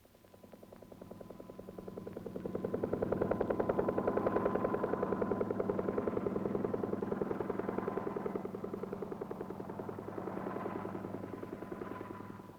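Air Force helicopter droning steadily over a nuclear test blast area, with a fast rhythmic rotor chop that swells in the middle and eases off, heard alone on an old, band-limited film track.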